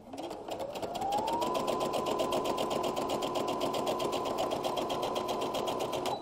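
Sewing machine stitching close along the edge of a pillowcase, a steady, loud, fast mechanical whir that speeds up at the start and then runs continuously without pause.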